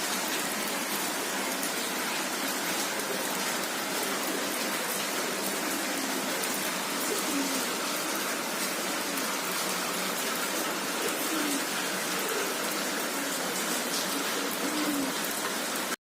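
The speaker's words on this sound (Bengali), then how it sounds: "এখানে তো সকাল থেকে বৃষ্টি হচ্ছে," Steady rain falls outside on a morning, a continuous, even wash of drops and spatter that holds at the same level throughout with no voices.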